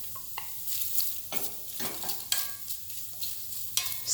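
Cut onion cooking in a dry pan with no oil or fat over a flame, stirred now and then; soft scraping and gentle sizzle up close, quiet and steady, no voices.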